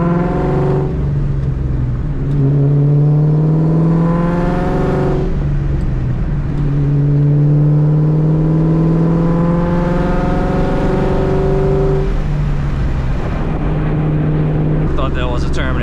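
A Terminator Cobra with a new exhaust revving repeatedly, the engine note climbing and dropping in several long rising pulls, loud and close inside the car with a rough, throaty tone.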